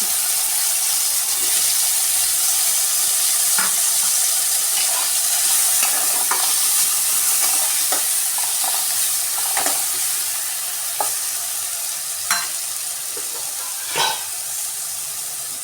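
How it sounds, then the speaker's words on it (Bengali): Eggplant coated with salt and turmeric fries in hot oil in a pan, giving a steady bright sizzle throughout with scattered clicks and scrapes of stirring. "এইবার ওই একই তেলে নুন হলুদ মাখানো আছে, বেগুনটা ভেজে নিচ্ছি।"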